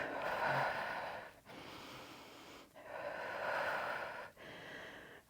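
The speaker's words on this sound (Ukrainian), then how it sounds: "Не соромимось голосно дихати." Heavy, loud breaths in and out repeat at a steady rhythm during a home fitness workout, each one a long airy rush with short gaps between, close to the listener.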